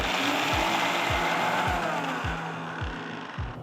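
A mixer grinder coarsely grinds spices with freshly grated coconut and no water, whirring loudly and continuously, with a rhythmic low thump recurring every half second or so as the contents tumble.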